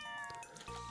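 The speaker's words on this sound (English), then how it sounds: "There's my cat." A cat in the Stardew Valley farming game gives a short, soft meow, one brief tonal call heard alone and fairly quiet.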